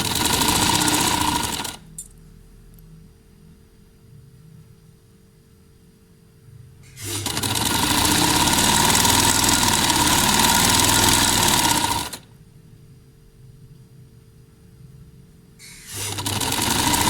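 A sewing machine stitches a shirt sleeve hem in loud, rapid bursts, running about five seconds at a time and broken by quiet pauses with only a faint hum.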